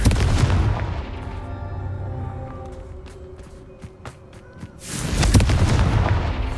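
A Confringo fire spell goes off in Hogwarts Legacy with a heavy booming blast, followed by a lower rumbling stretch and a second loud explosive burst near the end.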